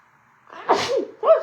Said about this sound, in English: I knew I had a sneeze coming on.